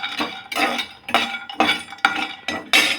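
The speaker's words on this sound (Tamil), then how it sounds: "தேங்காயை ஒரு பாத்திரத்தில் போட்டுக்கலாம்." Roasted coconut being transferred into a vessel, heard as a run of close, fairly loud metallic clinks and scrapes of a utensil against the pot, arriving in steady bursts about every half second, with no talking.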